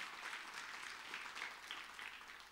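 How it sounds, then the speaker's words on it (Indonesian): A church congregation applauding, a continuous wash of many hands clapping at a steady level, faint and somewhat distant, tapering slightly at the end. "Bisa beri tepuk tangan buat Tuhan."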